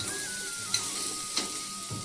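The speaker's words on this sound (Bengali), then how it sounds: "তেল গরম হয়ে গেলে কাঁকড়াগুলো ছেড়ে দিন আর ভালো করে এদিক ওদিক নাড়াচাড়া করে লাল লাল করে ভালো করে ভেজে নিন" Sundarbans crabs fry in hot oil while being stirred, a steady hiss of sizzling broken by a few sharp scrapes and clinks of the spoon against the pan, with a faint tonal whine running underneath.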